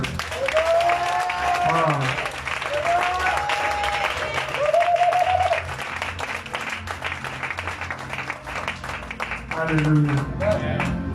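A church congregation claps and cheers in a sustained burst of applause, with voices calling out and singing over it throughout.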